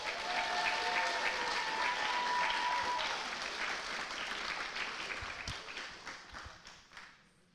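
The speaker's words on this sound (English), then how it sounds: "So we could give one round of applause to all our scholars tonight" Audience applause for scholarship recipients at a ceremony, a sustained round of clapping from a crowd that gradually thins and fades out, with a faint voice early on.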